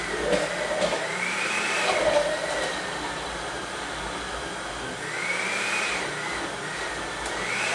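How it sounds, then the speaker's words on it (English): A blender whirs steadily while mixing green seasoning, a continuous motor drone with a rising and falling pitch as the blades churn through the herbs, fairly loud and close with no talking. "my blender seems very angry."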